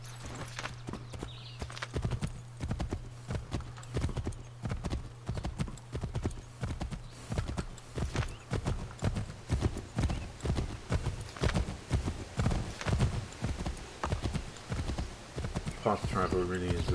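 A horse gallops in Assassin's Creed 3, with a steady, rhythmic run of clip-clop hoofbeats from close by that continues throughout over a low droning background.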